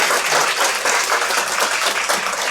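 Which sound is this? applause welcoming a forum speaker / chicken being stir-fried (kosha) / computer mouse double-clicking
applause welcoming a forum speaker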